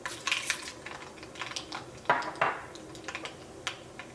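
Urad dal crackles in hot coconut oil alongside freshly popped mustard seeds, giving irregular sharp pops with a few louder bursts and clinks of a utensil against the pan, close and with no talking.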